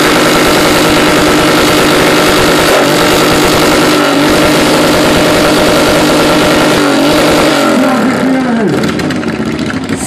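Motorcycle engine running loud and steady at a motorcycle rally competition on wet grass in Brynek, idling with a slight rev change near the end, while a crowd and announcer talk over it.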